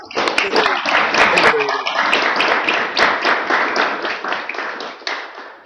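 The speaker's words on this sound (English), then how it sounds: "let's first give him a round of applause" Audience applause at a Stanford University event on innovative city districts and clean energy: a brisk burst of clapping from a modest crowd, sharp individual claps standing out, holding steady before gradually thinning out.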